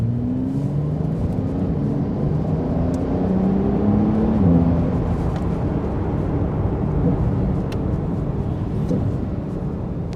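A 2019 Porsche 911 992 Carrera S in Sport Plus mode gives a steady low engine rumble with a brief pitch sweep and burbling as it downshifts, heard from inside the car.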